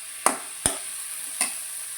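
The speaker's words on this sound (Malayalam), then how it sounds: "എല്ലാം കൂടി ഒന്ന് മിക്സ് ചെയ്യണം" Bitter gourd curry is stirred and mixed in a pan over a steady soft sizzle, with three distinct scraping clinks of the spoon spaced apart, close and fairly quiet, no talking.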